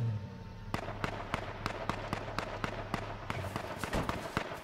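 Gunfire in the battle royale game H1Z1: King of the Kill, a series of sharp, separate shots cracking out at irregular intervals, some clustered quickly, over a low hum of game ambience and no talk.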